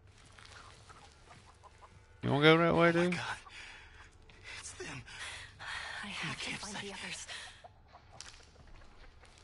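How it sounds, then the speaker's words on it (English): Chickens in the Texas Chainsaw Massacre video game give a loud, close burst of clucking squawks, followed by fainter game sounds while a player talks over it. "Oh shit, the chickens make noise."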